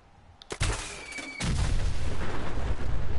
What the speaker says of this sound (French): le Fat Man, c'est un lanceur de bombes nucléaires